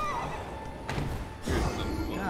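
A horse whinnies in a high, wavering cry, with a second neigh and some hoof-like thumps later, over a busy Elden Ring game soundtrack and people talking.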